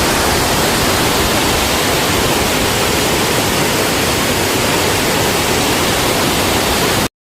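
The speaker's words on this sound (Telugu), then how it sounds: "వాటర్ సౌండ్ అయితే బిలే అనిపించింది" Rushing river water near a bridge roars as a loud, dense, unbroken wash of noise that holds steady for the whole stretch, with no voices, before cutting off abruptly at the very end.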